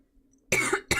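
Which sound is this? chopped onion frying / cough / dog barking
cough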